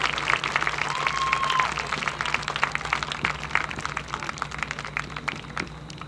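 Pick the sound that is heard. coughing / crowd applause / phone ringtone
crowd applause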